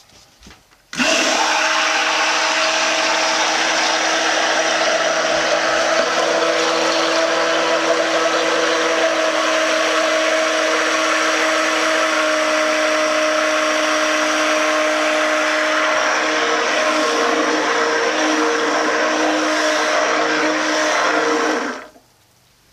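A blender runs loud and steady for about twenty seconds, whirring continuously as it mixes soap oils and lye in a pot to thick trace, then cuts off sharply.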